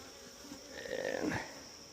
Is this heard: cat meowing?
no